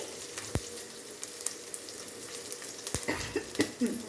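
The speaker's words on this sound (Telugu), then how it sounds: "కొంచెం వేగనివ్వండి" Spices and chilli frying in a pan while mango sambar is cooked, a steady soft sizzle broken by a few sharp clicks and spoon scrapes, fairly close and quiet, no talking.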